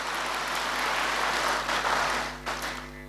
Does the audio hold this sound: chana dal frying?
no